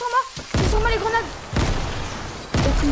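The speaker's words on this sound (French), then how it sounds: "Oh, il y a des grenades sur moi. C'est sur moi les grenades." Grenades go off in a video game in three sharp, loud bursts about a second apart, each followed by rumbling debris, while a voice talks between them.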